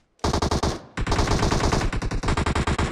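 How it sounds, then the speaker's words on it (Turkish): Automatic gunfire in the video game PUBG Mobile rattles out in two loud, close bursts of rapid shots, the first short, then a longer sustained stream after a brief pause. "En son silah sesi sağ taraftan geldi arkadaşlar."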